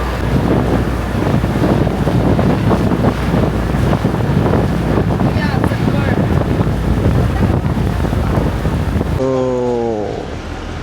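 Steady, loud wind roars across the microphone during a boat ride to an island, mixed with engine and water noise, before a voice briefly speaks near the end.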